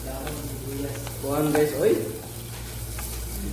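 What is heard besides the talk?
onion and garlic sautéing in a frying pan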